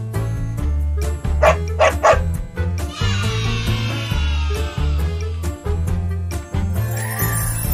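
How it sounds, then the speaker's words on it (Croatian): Cartoon dog barking in a children's educational animation, a short burst of yips and bow-wows near the start over a steady bouncy music bed, followed by a bright tinkling jingle. "Pas živi u kućici za pse."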